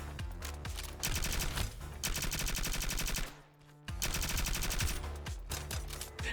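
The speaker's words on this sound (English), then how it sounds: "I like this SMG the best" Rapid, loud bursts of SMG fire in the game Cybercorp, sharp rhythmic shots in long strings with a brief pause midway before the firing resumes.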